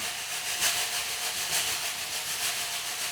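Percussion imitating a steam train, in a talk on African percussion instruments: a steady rhythmic hiss of rubbing or brushing strokes, roughly one swell per second, close and fairly loud with no talking.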